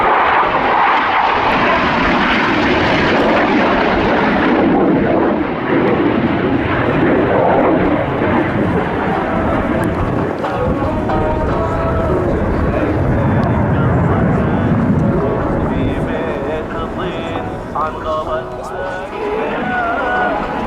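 Jet aircraft roaring loudly through a flying display at the Royal International Air Tattoo 2023, a sustained broadband engine rush that swells and fades slightly as the jets pass, with a commentator's voice over the public address.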